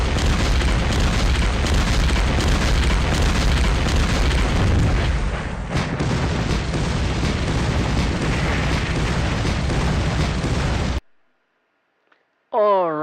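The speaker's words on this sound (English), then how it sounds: "humans are going at each other with mortars now." Mortar explosions in the SP:WaW wargame, a sustained, loud wash of booming blasts and rumble lasting about eleven seconds, then near silence and a brief warbling tone at the very end.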